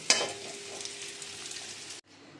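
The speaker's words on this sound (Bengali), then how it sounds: "আর এদিকে আবার একটু উচ্ছে ভাজা বসিয়েছি, চাক চাক করে কেটে সর্ষে ফোড়ন দিয়ে নুন হলুদ মাখিয়ে জাস্ট ভাজা" Sliced bitter gourd frying in oil with mustard seeds, salt and turmeric, a close, steady sizzle with a sharp pop at the start, then cutting off abruptly.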